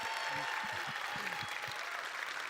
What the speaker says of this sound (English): Please give a round of applause to Doug Chiang.